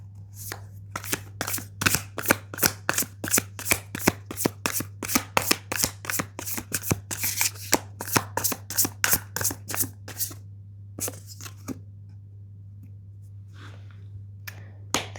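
Tarot cards riffled and shuffled in a rapid run of crisp, snapping bursts for about ten seconds, then a few scattered soft card taps, close and clear with no talking.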